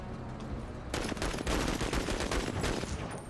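Sustained gunfire in the video game MENACE, a dense rattling fusillade of rapid shots that starts abruptly and continues without pause, loud and close.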